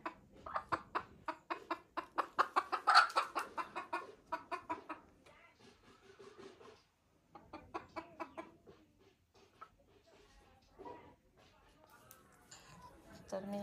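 Chickens cluck in bursts near a rural Konkan home, with a dense run of clucking early on, quieter scattered calls later, and a person talking at times over the fowl.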